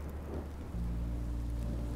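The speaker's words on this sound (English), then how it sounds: "Rain is better than monsters." Rain and a low thunder rumble in the video game Minecraft Story Mode, a soft steady hiss over a deep drone that thickens partway through, with no voices.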